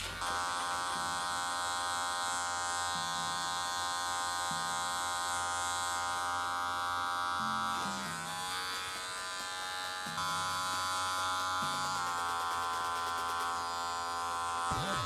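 Electric hair clippers with a number one guard cutting hair in a home barber setup, a close continuous motor buzz whose pitch shifts as the blade moves through hair, with background music and no talking.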